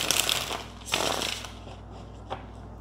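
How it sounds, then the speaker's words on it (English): A deck of tarot cards is shuffled during a reading, giving two close bursts of riffling, slapping card noise followed by a brief softer rustle. "Get one shuffle."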